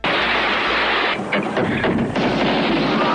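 Loud, dense bursts of gunfire mixed with heavy grenade blasts, rapid and continuous at close range, from the 1987 film Black Cobra.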